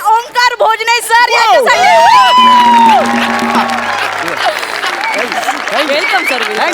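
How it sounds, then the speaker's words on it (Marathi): Audience applause and cheering break out on the stage of the Marathi comedy show Maharashtrachi Hasyajatra, after a voice speaks over some tonal music, with whoops mixed into the clapping. "एकदा जोरदार टाळ्या झाल्या पाहिजे."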